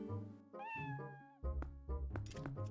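Cat meows from Zelda: Twilight Princess HD, several close, tonal mews in a row with short gaps, set against steady game background sound and no voices.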